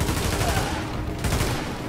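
Gunfire in The Division, a dense, continuous spray of shots with no clear gaps between them, loud and close throughout.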